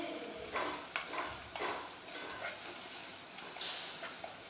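Curry leaves fry in a pan with a faint, soft sizzle, joined by several quiet stirring scrapes spaced unevenly.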